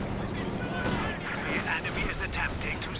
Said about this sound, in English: LMG Gren's firing away